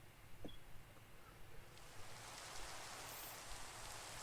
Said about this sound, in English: It keeps raining.